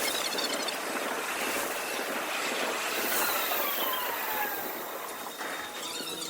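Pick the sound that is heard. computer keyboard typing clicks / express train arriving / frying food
express train arriving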